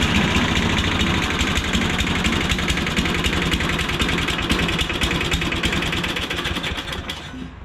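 A John Deere lawn mower engine that may need carburetor work runs with a loud, rapid, steady mechanical chatter close by, then dies down slightly toward the end, with no talking.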